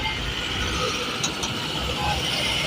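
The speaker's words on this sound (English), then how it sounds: "These are the cars coming from Onitsha Road." Cars pass along Onitsha Road by the Owerri Control flyover in Imo State, Nigeria, a continuous broad roar of traffic at moderate distance, with a faint brief clatter partway through.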